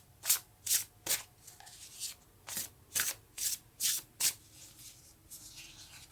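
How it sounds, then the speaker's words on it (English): Angel Wisdom Tarot cards are shuffled in a quick run of about ten crisp riffling bursts, each a short papery flutter, evenly spaced, close and clear over a quiet room. "So now we're taking a card from the Angel Wisdom Tarot."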